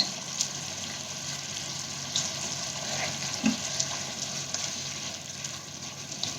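Watermelon rind curry simmering in a covered pan over a medium flame, giving a steady soft sizzle and bubbling hiss with a few faint clicks, no voices.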